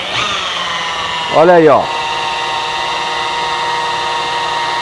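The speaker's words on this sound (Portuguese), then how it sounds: "Não tô colocando pressão na politriz, só tô apoiando" A rotary polisher runs over glass at reduced speed, about 1300, giving a steady, even machine whine throughout, with someone briefly speaking over it partway through.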